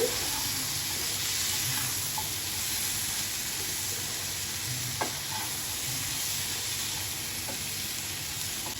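Brinjal and diced tomato fry in a pan, giving a steady close sizzle throughout with a few soft stirring clinks, and no voices over it.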